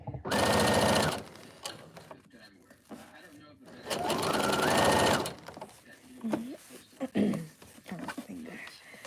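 Sewing machine stitching fabric in two loud steady bursts of rapid needle chatter, close up, with a person talking between runs while preparing items for a craft fair.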